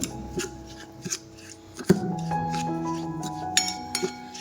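A spoon clinks and taps against a bowl while milk is mixed into a paste, with scattered sharp clinks over a soft tonal background.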